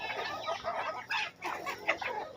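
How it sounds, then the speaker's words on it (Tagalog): Many farm chickens clucking and chattering while being fed scattered feed in the morning, a busy close flock sound with overlapping calls and no talk. "Ayan po, marami po tayong alagang mga manok."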